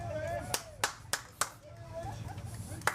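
A few separate claps from a spectator at a lawn bowls match at a winter bowls carnival, sharp and fairly close, spaced irregularly, with a commentator's voice and crowd murmur underneath.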